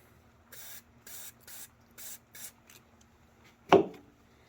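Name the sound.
spraying the Hydrogear transaxle fill caps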